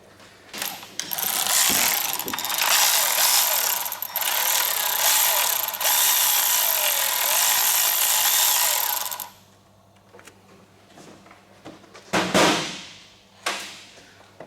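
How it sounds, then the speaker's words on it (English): Ratcheting spanner clicks away steadily and loudly while removing the fuel line and loosening a small 8mm clamp bolt on a Ford Ranger / Mazda BT-50 engine, then stops, leaving a few short bursts of tool noise. "And that's how you take the fuel line off."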